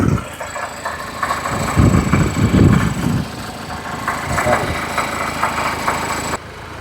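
A vehicle engine idles loudly and close by with a steady rumbling rattle while someone talks over it, then the sound cuts off abruptly.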